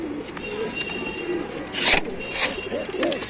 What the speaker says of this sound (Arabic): افتح لكم برضه على الحمام ونوريكم الحمام وهو طاير